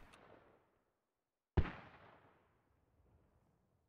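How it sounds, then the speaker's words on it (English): A single mortar round from Squad booms once at mid-distance and trails off in a long rolling echo, following a faint earlier rumble and then near silence. "There's the mortar."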